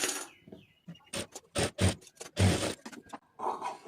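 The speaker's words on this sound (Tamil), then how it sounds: "இப்போ அதை சுற்றி தையல் ஓட்டிக்குவோம்" A sewing machine stitches around the edge of a blouse, running in short stop-start bursts of rapid mechanical whirring separated by brief pauses, close and fairly quiet.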